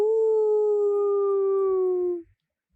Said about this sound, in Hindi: रो उठा कहीं कुत्ता।